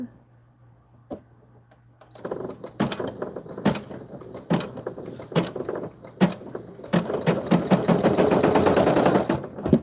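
A sewing machine stitches a doll's skirt, starting thread bunched, after a quiet start: sharp clicks and short runs build into a steady, louder whir toward the end.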